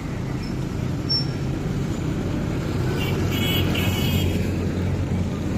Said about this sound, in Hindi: यहाँ पे जो ट्रैफिक है ना, ट्रैफिक है बहुत ज़्यादा, जिस वजह से शोर होता है।